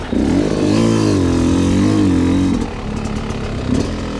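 A hard enduro motorcycle rides downhill, its engine loud and close, holding a steady revving drone, then dropping to a lower, rougher burble with clattering as the rider brakes.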